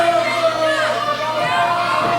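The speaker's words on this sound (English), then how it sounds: "I'd even concentrate on anything when the crowd is this loud, this into the match" A loud wrestling crowd at a pro wrestling match roars and cheers steadily throughout, a dense wash of voices with a commentator talking over it.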